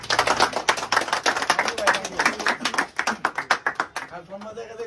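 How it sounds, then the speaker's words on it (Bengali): Several people clap their hands in a quick, steady patter at a team salary-day gathering, the dense claps running close and loud for several seconds, with voices talking over them. "এই হাততালি গো।"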